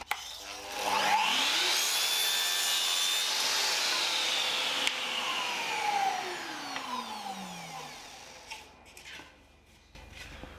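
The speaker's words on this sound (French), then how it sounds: "Donc on va venir placer la plinthe à découper, comme ceci." A Metabo KGSV 72 Xact Sym miter saw cuts through a wooden baseboard. The motor whines up, the blade bites through the wood for several seconds and then spins down, close and loud, with no talking.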